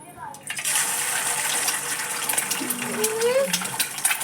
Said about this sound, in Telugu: ఫస్ట్ హ్యాండ్ వాష్ చేసుకుంటా